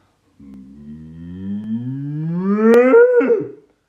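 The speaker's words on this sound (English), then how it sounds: "Was that a friendly moo or a non-friendly moo?" A cow gives a single long, loud, close moo that rises slowly in pitch and swells toward the end before cutting off, with nothing else audible.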